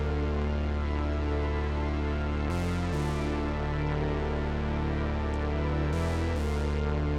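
Synth keys from the Vision preset in Synthtopia, layered into a beat with deep sustained bass underneath, playing steady chords for several seconds with two brief changes, loud and continuous with no voices.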